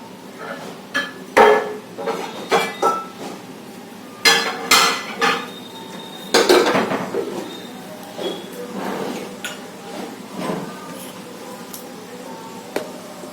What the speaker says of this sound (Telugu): ఫ్రైకి నేను కడాయి తీసుకున్నాను, ఆయిల్ వేసాను.